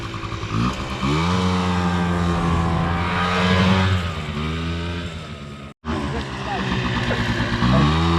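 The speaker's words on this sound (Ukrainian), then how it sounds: "Так, перший їде привикати до скутера Андрій." A small scooter engine buzzes steadily as it rides off, pitch rising and falling with the throttle, briefly cutting out before revving again.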